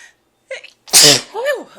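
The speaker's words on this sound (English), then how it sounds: "I'm gonna sneeze." A single loud, close human sneeze, preceded by a couple of short sharp inhaled breaths and followed by a drawn-out voiced exhale.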